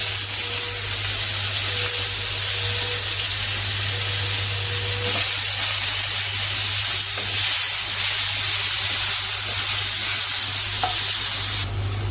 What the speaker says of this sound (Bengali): এবারে দিয়ে দিলাম আলু